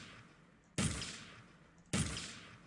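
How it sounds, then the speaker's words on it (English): Two sharp explosions go off in an Unreal Engine 4 target practice game, each a sudden loud burst that decays over about a second, spaced roughly a second apart. "So you've got one explosion, then the second one."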